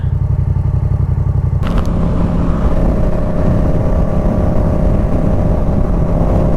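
A motorcycle riding on a road, with a loud, steady engine drone and a sudden shift to heavier rumble and wind roar partway through, close and continuous.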